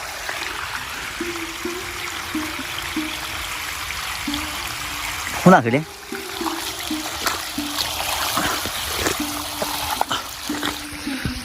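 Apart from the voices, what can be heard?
flowing water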